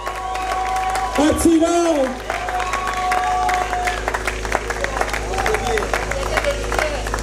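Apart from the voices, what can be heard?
audience applauding at a film premiere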